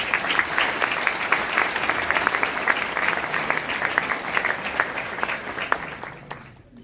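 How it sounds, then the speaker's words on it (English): An audience at a scholarship gathering breaks into steady applause, a dense wash of many hands clapping at moderate volume that fades out toward the end. "Please give yourself a round of applause."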